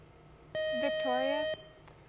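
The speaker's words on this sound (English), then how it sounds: "The buzzer got you there." A quiz bowl buzzer at a school match between Rockford East and Dixon gives one sustained electronic tone lasting about a second. A voice speaks over part of it, and a short blip follows.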